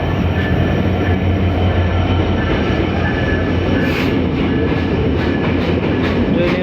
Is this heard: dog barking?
no